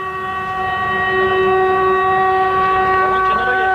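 A loud, sustained train horn blares up close as part of an invisible train prank, a steady chord holding for several seconds over rumbling background noise.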